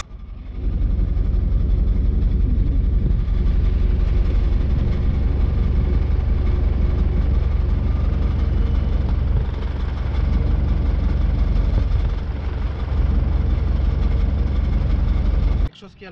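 A camper van engine idles loudly and continuously with a rough, rumbling drone and a metallic rattling texture from something loose between the engine and exhaust, heard close up for about fifteen seconds before stopping.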